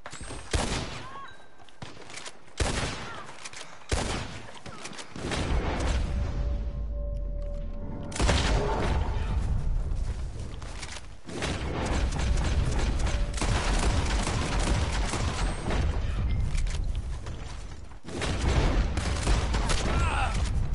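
Gunfire and mechanical clatter from the video game Red Dead Online come as repeated bursts of shots and rattling action noises, loud and dense through most of the stretch, with a voice heard faintly at times.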